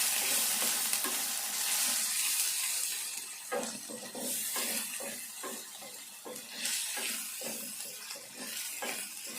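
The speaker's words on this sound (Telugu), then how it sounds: "ఇప్పుడు అల్లం వెల్లుల్లి పేస్ట్ వేసుకోవాలి. వేసుకొని ఇది కూడా కొద్దిసేపు వేగాలి." Ginger garlic paste frying in a pan for a Telangana ivy gourd stew, bright sizzling hiss with a run of rhythmic spatula scrapes and taps, close and moderately loud.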